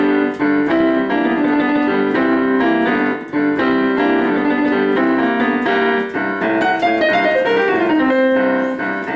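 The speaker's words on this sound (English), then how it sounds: "Nice little blues piano song." A blues-rock piano song intro plays alone, loud and close, with steady rhythmic chords and a descending run near the end.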